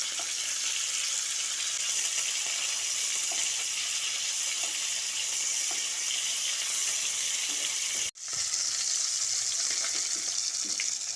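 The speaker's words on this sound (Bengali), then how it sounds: "মাছগুলো দিয়ে উল্টে পাল্টে ভালো করে ভেজে নিতে হবে" Pieces of bata fish fry in hot oil in a kadai, a dense, even, close-up sizzle running continuously apart from a brief cut near the end, with no voices.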